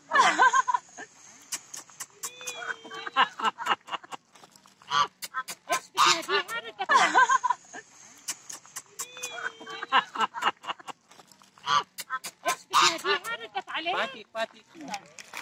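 Ducks and geese fed bread by tourists give repeated quacks and honks mixed with lively chatter and children's voices outdoors, the calls coming in bursts under and between the talk.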